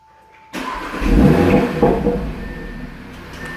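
A 2018 Audi RS3 sedan fires up by remote start: a low cranking catch, then a loud rising rev that settles into a steady idle, heard up close with no talking.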